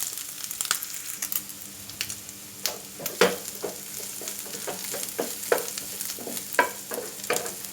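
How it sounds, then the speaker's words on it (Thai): Crushed garlic stir-fries in rendered pork lard for a pork and shrimp-paste dish. Light sizzling runs underneath while a spatula scrapes and taps the pan in irregular, close strokes. "ผัดกับน้ำมันหมูที่เราออกมาเนี่ยครับ"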